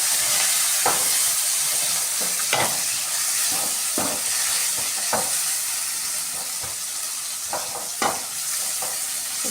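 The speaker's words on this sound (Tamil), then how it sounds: "இப்போ அடுத்தது தக்காளியும் போடுறோம்." Tomatoes tipped into a pan of simmering chicken gravy give a constant loud sizzle and hiss, with scattered sharp clicks and scrapes from a spoon against the pan throughout.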